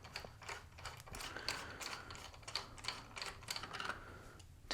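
A screw being backed out of a White Water pinball playfield during teardown, a quiet run of close, rapid ratcheting clicks, likely from a ratchet screwdriver, in short bursts with brief pauses.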